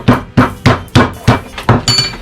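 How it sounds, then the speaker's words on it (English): A small meat hammer pounds a butterflied chicken breast flat on a board, seven evenly spaced heavy thwacks, close and loud, with no talking. "Take my little hammer guy."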